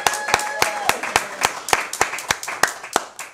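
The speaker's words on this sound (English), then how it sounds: "give a hand of round of applause" Rhythmic hand clapping, sharp distinct claps at a steady pace, with a voice talking briefly at the start.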